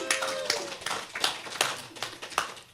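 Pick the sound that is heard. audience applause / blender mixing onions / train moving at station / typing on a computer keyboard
audience applause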